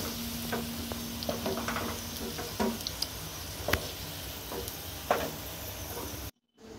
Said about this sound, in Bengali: এরকমভাবে আলু আর পটলগুলোকে আগে ভেজে নিতে হবে